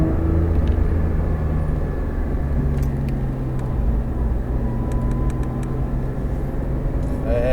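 Porsche 911 GT3 RS on the Nogaro circuit, a loud, steady engine drone with strong low harmonics running continuously throughout, close and sustained, with faint speech in the background.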